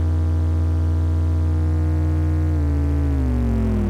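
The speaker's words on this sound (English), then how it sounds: "Listen as you start to detune this thing or turn the frequency modulator knob." An Intellijel Shapeshifter Eurorack module hums a steady, buzzy low tone that gradually bends downward in pitch as it is detuned with frequency modulation, loud and continuous with no voices.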